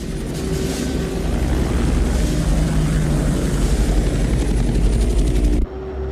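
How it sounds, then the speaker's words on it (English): Black Hawk helicopters flying overhead in a war film, a loud, steady rotor roar with a rumbling low end that holds throughout before cutting off abruptly near the end. "I sent Davis and Proctor to ride shotgun for the Blackhawks, over."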